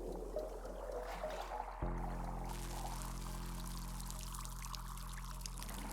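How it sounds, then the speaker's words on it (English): Tea poured from a kettle in the cozy game Wanderstop, a brew made by sacrificing a book: a steady liquid pour that starts softly, then swells into a continuous stream over a low hum, with no talking. "All right, let's pour this out."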